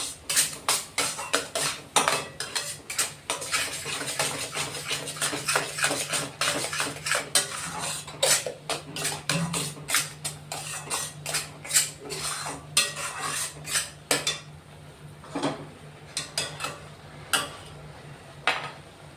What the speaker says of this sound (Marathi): आता तेल सुटेपर्यंत हा मसाला भाजून घ्यायचा